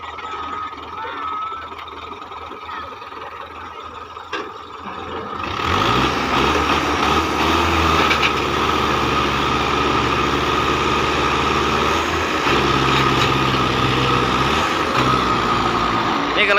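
A tractor pulls a loaded trolley, its heavy diesel engine rising from a rumble to a loud, labouring roar that holds steady and shifts pitch as it strains. People talk throughout.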